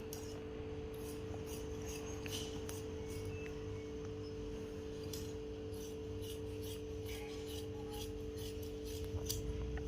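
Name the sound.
scissors cutting blouse fabric along marked line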